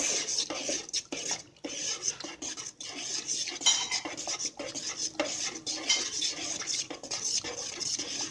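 Garlic and salt stirred in a pot while cooking pinto beans, a steady scraping and clinking of a utensil against the pot wall that runs continuously and fairly close, with no talk.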